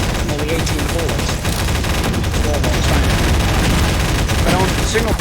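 Rapid revolver gunfire rattles through a Source engine deathmatch video game, dense and continuous with overlapping shots and booms, loud and close, while a voice talks over it.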